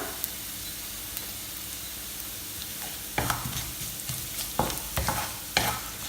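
Grated coconut sautés in a pan, a soft steady sizzle broken by several scraping stirs of a spoon against the pan in the second half, close and without talk.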